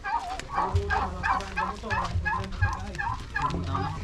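Turkeys gobble and call repeatedly in rapid, bubbling bursts, close by, with chickens and faint voices mixed in on a small farm.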